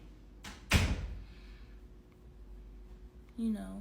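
An indoor door shuts with a sharp, loud slam preceded by a softer knock, then quiet room tone before a voice briefly speaks at the end.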